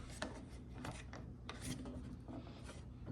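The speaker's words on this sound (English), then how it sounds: "To use this old model, screw this in and out by hand." An old Kreg pocket hole jig being screwed in and out by hand, a quiet close rasping, rubbing and ratchety grind of threads turning in short repeated strokes.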